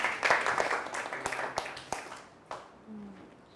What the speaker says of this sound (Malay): Okey, bagi tepukan dekat Hadi.